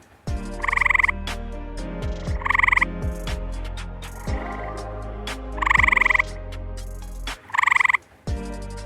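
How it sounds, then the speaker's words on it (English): Eastern gray tree frogs calling in Cambria County, with several loud, bright musical trills in short bursts over a steady chorus of lower croaks and pulsing calls, close by and free of any talk. "we have the second population now of eastern gray tree frogs in Cambria County"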